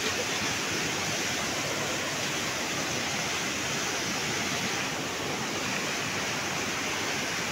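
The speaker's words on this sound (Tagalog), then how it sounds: "ang lakas ng ilog" A strong river current rushes in a broad, unbroken roar of water, loud and close, holding steady the whole time with no voices.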